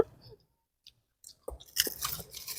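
Bitter gourd, ampalaya, is bitten and chewed in a few close, crisp crunches after quiet pauses, building into a louder burst of wet chewing toward the end.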